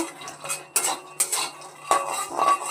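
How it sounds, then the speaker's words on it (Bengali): Peanuts dry-roasting in a pan for bottle gourd payesh, stirred with a metal spoon: irregular scraping and clinking bursts of utensil on pan, fairly close, with no talking. "একটু বাদাম কটা ভেজে নেব।"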